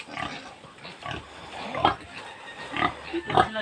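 Native pigs being moved into a repaired pen give a series of short grunts and oinks, close by and moderately loud, spaced unevenly, with no talking.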